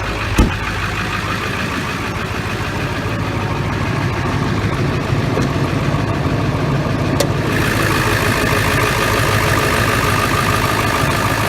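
A Powerstroke diesel truck idling after a cold start in extreme cold, a steady rumbling idle with a slight lope and a sharp click near the start, alone and close by.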